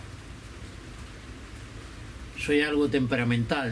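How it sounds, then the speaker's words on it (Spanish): Steady rain falls outside a home in a broad, even hiss, with someone speaking over it in the second half. "Está lloviendo"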